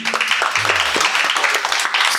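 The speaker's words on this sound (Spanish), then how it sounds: "Es un aplauso, Antonio." A studio audience on a Spanish television program breaks into brisk applause, dense overlapping claps that stay fairly loud and even for the whole short stretch.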